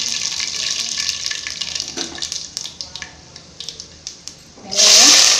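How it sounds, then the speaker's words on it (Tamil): Mustard seeds splutter in hot oil in a Tamil home kitchen, with scattered sharp pops and crackles over a light sizzle. A loud burst of hissing comes at the end. "இப்போ கடுகு போட்டுக்கோங்க, நல்லா பொரிஞ்சு வரட்டும்."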